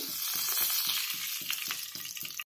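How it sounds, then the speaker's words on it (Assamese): Mustard oil heats in a wok on a gas stove and crackles and spatters hard from a little water in the pan. The sizzle is dense and continuous, then cuts off abruptly. "কেৰাহীটোত পানী আছিল নেকি অকনমান গটিকে সেনেককে উঠিলে তেলখিনি"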